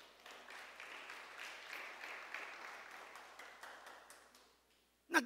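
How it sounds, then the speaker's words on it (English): A church congregation claps together in a burst of offering applause, a dense patter of many hands at moderate distance that thins out and fades before a sharp knock at the very end. "let's give the Lord a big clap offering"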